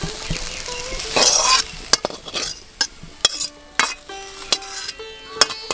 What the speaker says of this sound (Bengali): এবার আরও 2 থেকে 3 মিনিট ধরে আমি এইভাবে কষিয়ে নেব